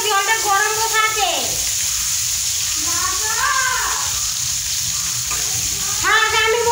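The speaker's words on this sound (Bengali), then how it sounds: "বেশি করে তেল দিয়ে দিয়ে একেবারে কষে নেবে" Spinach pakora mixture sizzles and fries in plenty of hot oil, a steady hiss running throughout while voices chatter over it in a home kitchen.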